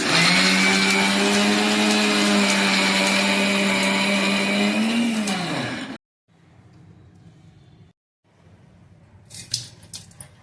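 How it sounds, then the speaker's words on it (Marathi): An electric grinder blitzes roasted peanuts into a coarse powder, a loud, steady motor whir that winds down after about six seconds, then quiet rattling and clinks as the jar is handled. "अशा पद्धतीने आपण सर्व कूट बारीक करून घेणार आहोत।"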